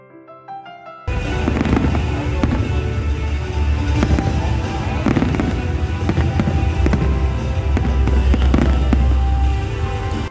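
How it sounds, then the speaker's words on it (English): New Year fireworks bursting over Burj Al Arab and Atlantis in the UAE, a dense, continuous barrage of loud booms and crackles with no pauses, following a brief quiet opening. "you can watch and enjoy both fireworks of Burj Al Arab and Atlantis at the same time"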